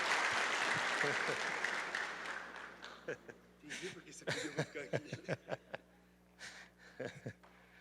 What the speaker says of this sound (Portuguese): Uma salva de palmas para Elias.